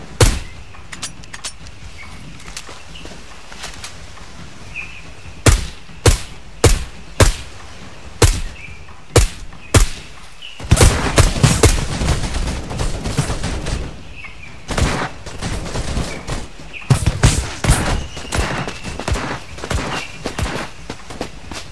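Gunfire in the shooter Black Day, a string of isolated loud single shots spaced about a second apart, then a denser burst of rapid fire with clattering and footsteps, close and sharp.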